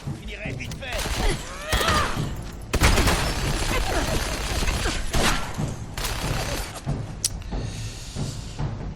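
Minigun fire in the video game Fallout 4, sustained dense bursts of rapid shots with crashing impacts and booms, loud and continuous, mixed with people talking over the action.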